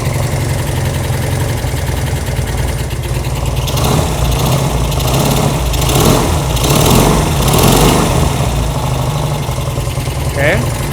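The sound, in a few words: Honda CB200 motorcycle engine idling after carburetor adjustment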